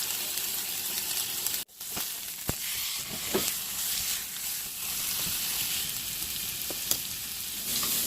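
Chuck roast browning in a hot pan over high heat, a steady loud sizzle and spattering hiss with a few sharp pops, no talking.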